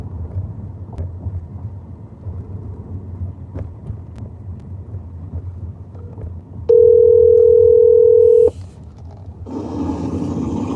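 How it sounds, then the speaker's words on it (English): Telephone call tone, a single steady electronic beep lasting about two seconds, heard clearly over the low rumble of an old Ford truck cab. "Rico, call my other phone right quick."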